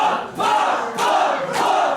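Crowd at a fighting event chanting in rhythmic bursts, three loud swelling shouts about half a second apart, dense massed voices filling a large hall.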